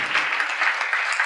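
An audience claps during a Swaminarayan religious discourse, a loud, dense burst of many hands applauding steadily for the whole moment.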